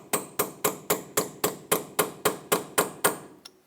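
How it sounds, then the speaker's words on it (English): A hammer strikes a punch or chisel against the axle nut of a 2008-2012 Honda Accord, about eleven sharp, evenly spaced metallic blows in quick rhythm, close and loud, with no talking. "We're going to use a punch or a chisel and a hammer and open it up a little bit."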